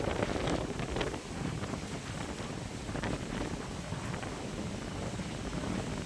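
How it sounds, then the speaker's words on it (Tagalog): Steady wind blows across the microphone outdoors in BGC, Taguig City, a soft continuous rushing with no speech. "Mahangin, oh."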